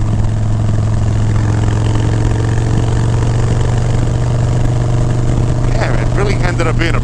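A Harley-Davidson Road Glide motorcycle engine runs at a steady, loud idle with a deep, even throb, while someone talks over it.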